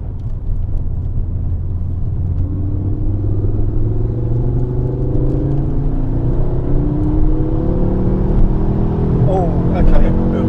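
Ford Focus RS MK2 engine pulling hard under acceleration, a loud, close rumble rising steadily in pitch through the revs, with a voice talking over it.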